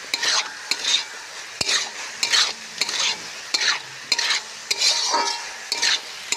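Sliced bitter gourd fries in a pan with a constant sizzle, broken by repeated scraping stirs of a spatula against the metal in an uneven rhythm, close up and with no voices.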